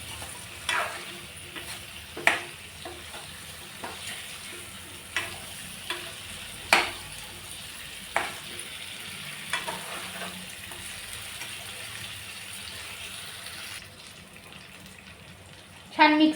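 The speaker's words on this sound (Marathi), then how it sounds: "आणि मसाल्यासोबत छान त्यालाही भाजून घेऊया तेलावर।" Eggplant and potato pieces fry in oil with spices in a pan, giving a steady soft sizzle. Scraping stirs and clinks recur throughout, and a louder clatter comes at the end.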